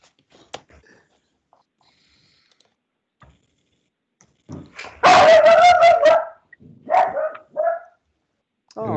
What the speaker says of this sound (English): Whose wee dog is barking?